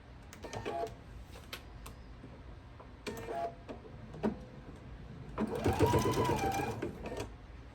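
A sewing machine stitches quilt fabric pieces in short bursts of fast mechanical whirring and ticking, with pauses and handling noises between runs, close and fairly loud.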